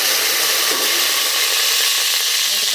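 Curry leaves crackling and sizzling in hot oil with fennel seeds, a loud continuous close frying hiss with a brief stirring scrape.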